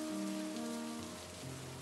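Torrential rain on a cold, miserable day pours down as a dense, steady hiss, with a low sustained musical drone underneath and no speech.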